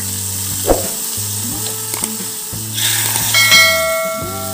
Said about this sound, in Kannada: ಈ ಒಗ್ಗರಣೆನ ಈ ಮಜ್ಜಿಗೆ ಪೋಳ್ದಕ್ಕೆ ಹಾಕ್ತಾ ಇದ್ದೀವಿ ನೋಡಿ.